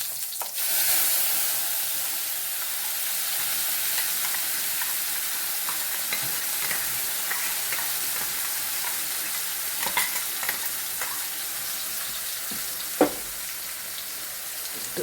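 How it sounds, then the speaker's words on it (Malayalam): Garlic and chili paste fry with spluttered cumin seeds in hot oil, a steady close sizzle and hiss with stirring scrapes and an occasional sharp tap on the pan. "ജീരകം പൊട്ടിക്കഴിയുമ്പോൾ തന്നെ നമ്മൾ അരച്ച് വെച്ച വെളുത്തുള്ളി മുളകും കൂടെ ഇതിലേക്കിടാം"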